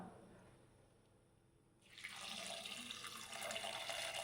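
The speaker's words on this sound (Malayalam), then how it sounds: "അപ്പോൾ ഇനി അതിലേക്ക് നമ്മൾക്ക് പാകത്തിനുള്ള വെള്ളം കൂടെ ഒന്ന് ചേർത്ത് കൊടുക്കാം" Water is poured into a fish curry masala mix, a soft steady splashing and trickling that starts about halfway through and continues, close and fairly faint, with no talking over it.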